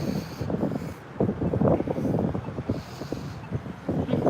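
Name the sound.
wind outdoors on a sunny day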